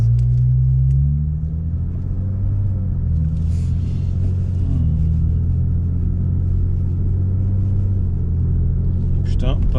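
Lexus IS250 pulling away and shifting gears, a deep low engine rumble whose pitch climbs and drops smoothly between shifts, close inside the cabin with faint voices.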